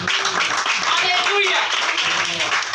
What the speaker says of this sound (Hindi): आइए प्रभु यीशु मसीह के नाम में जोरदार से तोड़ तालियां बजाएंगे